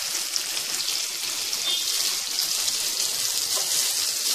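Green chillies and ginger fry in oil for vegetable oats upma, giving a steady, close, hissing sizzle that stays even throughout with no voices.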